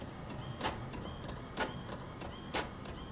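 A printer in the horror video game Mortuary Assistant runs with a steady mechanical whir, broken by three evenly spaced clunks about a second apart; no one speaks over it.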